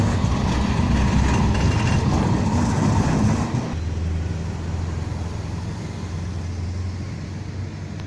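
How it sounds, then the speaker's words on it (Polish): Loud rumbling rush of a tram going by close, then cutting to a lower, steadier hum as it moves off. "A tu następny tramwaj jedzie."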